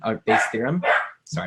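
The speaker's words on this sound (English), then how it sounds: "that's my dog in the background, being a little nuisance" A pet dog barks somewhere in a room behind someone talking, giving a few short yips that sit mostly under his speech.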